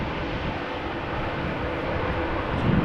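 A Boeing 787 Dreamliner arriving at Amsterdam Schiphol gives a continuous, fairly loud low engine rumble that swells slightly toward the end.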